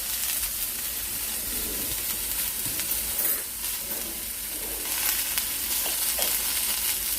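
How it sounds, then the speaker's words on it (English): Vegetables with about two tablespoons of butter sauté in a pan for Thai jasmine fried rice, giving a steady close sizzle and hiss with occasional stirring scrapes throughout. "Alright, keep on sauteing it."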